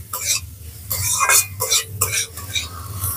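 A spoon scrapes and clacks in a pan of spices with tomato and chilli, including turmeric and Kashmiri chilli powder, in irregular close bursts of stirring with light sizzle beneath.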